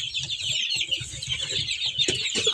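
Steady low clucking comes from a broody Kuchin hen nearby, a dense, grumbling run of short pulses under a constant raspy overtone, with no other sounds.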